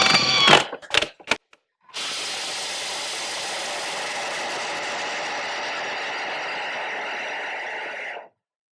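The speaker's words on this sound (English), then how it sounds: "full speed, you guys, and then all the way we're gonna turbo these almonds into almond flour" A blender runs at full speed pulverizing whole almonds into almond flour: a few short bursts, then a loud, steady high-pitched whir for about six seconds before it cuts off.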